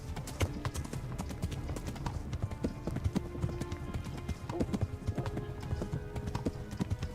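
Rhythmic clip-clop of a horse's hooves walking at an even pace on hard ground in the video game Kingdom Come: Deliverance, close by, with no talking.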